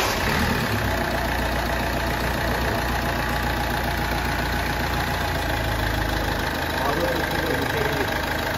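Ford Fiesta engine idling steadily at close range, a continuous low rumble with faint knocking texture throughout, no voices over it.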